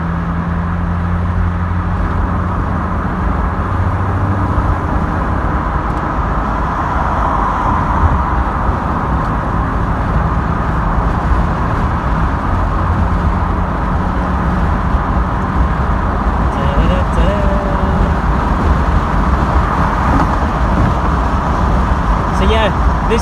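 A retro classic car drives in traffic, its steady engine and road rumble droning throughout while someone talks over it from inside the cabin.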